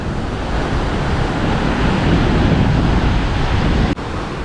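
Strong wind roars steadily across the microphone during a speedboat ride on the sea near Shenzhen's eastern coast, a loud, unbroken rush of air with one brief dropout near the end.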